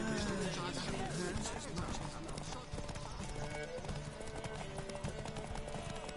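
Geralt's horse Roach gallops in The Witcher 3, rapid rhythmic hoofbeats running steadily under dense game music and effects, with a voice talking over it.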